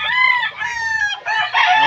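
A gamefowl stag or cock crows close and loud, a short strident call broken into a few harsh rising segments.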